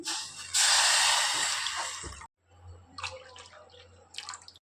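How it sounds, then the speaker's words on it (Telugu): Water poured into a cooking pot holding half a cup of sago: a loud, rushing pour for under two seconds, then a pause and a few scattered drips and clinks. "3 కప్స్ వాటర్ పోయాలి."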